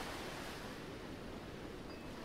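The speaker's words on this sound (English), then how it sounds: "as you watch the ocean waves" Ocean waves and surf make a soft, continuous broadband wash with no distinct breaks, faint and even throughout, alone without any talk.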